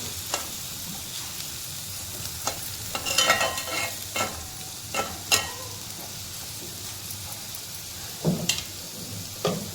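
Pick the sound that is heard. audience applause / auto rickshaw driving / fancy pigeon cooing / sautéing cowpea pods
sautéing cowpea pods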